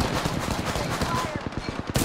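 Continuous rapid gunfire in a video game firefight, loud close automatic bursts with a steady staccato rhythm filling the whole moment, with a sharp extra shot near the end.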